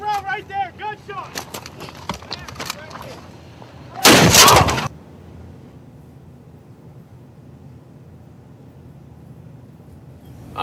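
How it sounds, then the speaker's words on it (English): 30mm grenades fired by the IDF burst inside a compound, one loud concussive blast standing out after a stretch of sharp distant gunfire and shouting voices, followed by a low rumbling aftermath. "IDF 30mm grenades hitting inside the compound, getting close, real close."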